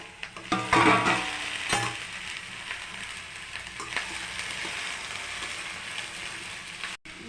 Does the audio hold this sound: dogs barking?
no